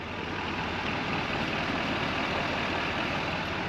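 A 2022 Chevrolet Silverado 2500 HD with a 6.6-liter V8 diesel runs with a steady, subdued rumble that holds an even level throughout, with no voices.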